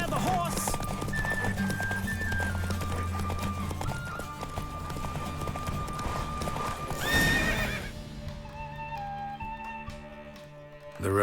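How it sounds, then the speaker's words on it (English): Horse hooves clip-clop at a fast gallop during a race in The Witcher 3: Wild Hunt, steady and close under continuous game music, with a neigh partway through. "Don't spare the horse!"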